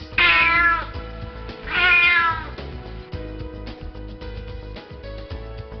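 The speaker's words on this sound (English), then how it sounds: "cries of mews" A domestic cat gives two loud, drawn-out meows close by, one after the other, followed by a steady tonal background with no further cries.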